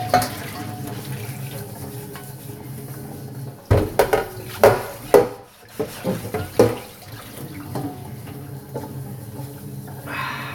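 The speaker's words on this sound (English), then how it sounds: "we'll just give it a quick wash in the sink" Tap water runs into a sink while a rusty item is scrubbed and knocked about, with steady flow underneath and a cluster of clanks and scraping strokes in the middle.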